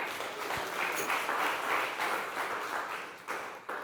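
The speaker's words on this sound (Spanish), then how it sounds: "Denle un aplauso al Espíritu de Dios." A church congregation claps for the Holy Spirit during a Spanish-language sermon, a dense roomful of hands applauding steadily and loudly throughout with no talk over it.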